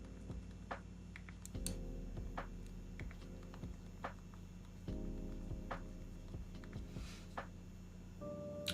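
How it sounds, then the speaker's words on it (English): Fast, light clicking from a tiny computer keyboard, close up, with irregular bursts of taps over a steady background hum. "a nice, fine, up close and personal view of the world's tiniest keyboard"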